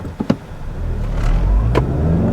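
A 2021 Lexus ES 300h hybrid pulls away hard from a launch, engine noise swelling and holding steady after a couple of sharp clicks at the start, close and fairly loud.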